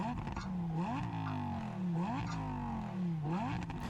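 A Lamborghini V10 revs hard in repeated bursts, each climbing pitch in a sharp sweep then dropping back, about three cycles, loud and raspy with a metallic edge.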